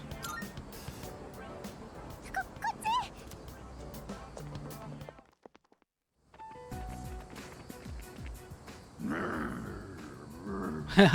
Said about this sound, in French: Elle marchait sur la queue d'un chien sans faire exprès